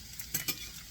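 Bacon and liver sizzle in a pan as a utensil stirs them, a quiet steady fry with two quick scraping clinks close together.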